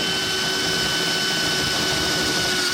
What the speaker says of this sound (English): You need a step drill bit, and I'll go down to the 4th landing on this one.